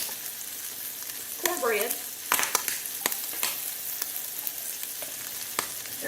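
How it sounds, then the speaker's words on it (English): Home-cooked beans in a dark broth warm in a skillet already used for frying, giving a steady sizzle with scattered scraping and stirring clicks. A voice briefly speaks partway through. "I'm going to pour my beans up over here in a skillet to warm them"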